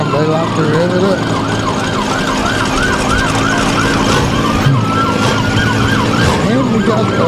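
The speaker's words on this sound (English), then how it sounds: "You can hear all the sirens, the fire trucks, and all of that as they are coming through here." Multiple emergency vehicle and fire truck sirens wail and overlap as they pass through a Christmas parade route, steady and loud over crowd and engine noise throughout.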